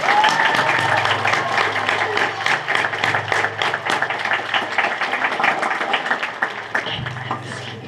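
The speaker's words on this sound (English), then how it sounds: "let's give them another round of applause." Audience applause at an 8th grade recognition ceremony, a dense sustained clapping from a crowd that tapers slightly toward the end, with a faint tone running underneath.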